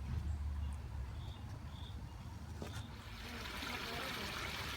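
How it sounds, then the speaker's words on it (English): A running pond skimmer drawing water in: steady, close trickling and rushing flow, a continuous wash of water noise that grows slightly brighter toward the end. "I'm going to go ahead and kick the pond back on so you can see how this thing works."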